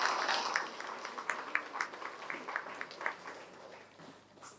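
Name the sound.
audience applause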